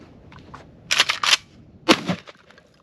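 Kel-Tec KSG25 shotgun firing double-aught buckshot at an outdoor range: a tight cluster of sharp blasts, then a single further report about a second later, loud against a quiet background.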